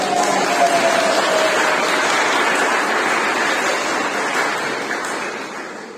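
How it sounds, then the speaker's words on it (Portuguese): Congregation applauding at a church service celebrating a wedding, a dense, steady wash of many hands clapping throughout, easing slightly toward the end. "vamos bater umas palmas aí"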